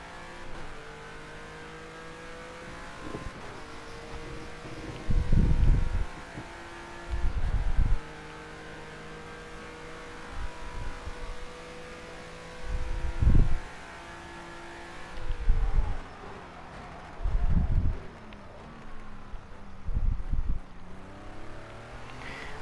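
A Renault car engine in a driving video game hums steadily, surging loudly in repeated revving bursts every few seconds, with no talking.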